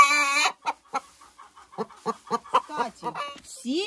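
Laying hens in a henhouse give short, repeated clucks and squawks, close by and fairly loud, in an uneven rhythm throughout.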